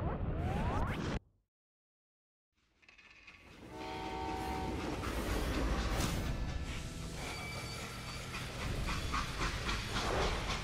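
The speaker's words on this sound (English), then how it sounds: "They hopped a freight train" A steam freight train in the Western shooter Call of Juarez: Gunslinger rumbles and hisses, a horn sounding over the rolling clatter of the cars, after a brief silent gap.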